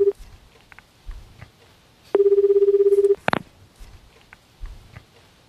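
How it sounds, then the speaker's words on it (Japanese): A telephone rings out on a call being placed, heard from the caller's side as a single buzzing ringback burst about a second long. Faint background sounds come before and after it. "与那川くんに電話しています"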